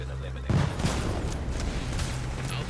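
A single sharp sniper rifle shot, apparently a DeadEye or SVD, rings out in a shooter video game, loud and close, followed by steady game noise and a voice talking.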